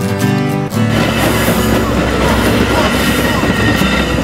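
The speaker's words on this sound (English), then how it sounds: "now I'm about to take another metro train, hopefully the right metro train, and go back to downtown Chicago" A Chicago metro train rolls through a station, its loud continuous rumble and rail noise starting abruptly and filling the platform.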